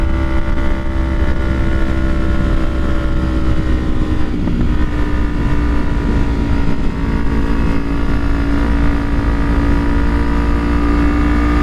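A 2012 Kawasaki Ninja 250R motorcycle under way, its engine droning steady and loud with a whining tone, heavy wind rush over the microphone throughout, and no voices.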